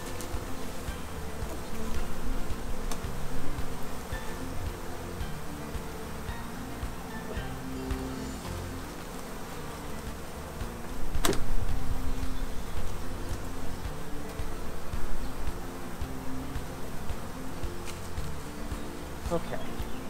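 Honey bees buzz thickly around an open hive, a dense continuous drone close by with individual bees swelling louder as they pass near, steady for the whole stretch.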